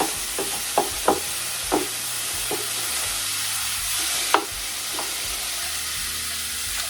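Onion, tomato and chili sizzle and fry in a pan, a steady close hiss broken by several sharp scrapes and taps of a utensil stirring, with no talking.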